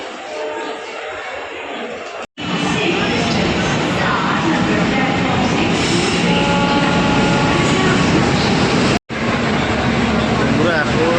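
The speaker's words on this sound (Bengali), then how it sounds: "বন্ধুরা এখন প্ল্যাটফর্মে ট্রেন এসছে" A train pulls in alongside the platform at Santragachi station, a loud, steady broadband rumble and rush that fills the whole stretch, cut by two brief dropouts.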